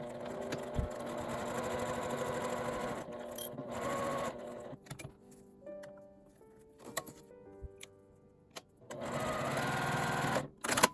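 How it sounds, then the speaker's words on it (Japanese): A sewing machine stitches along the edge of a zipper in bursts: a fast whirring run, a brief pause, another short run, a quiet stretch with small clicks and handling, then a final burst of stitching, all close by. "留め具のところから端までファスナーの端を縫います"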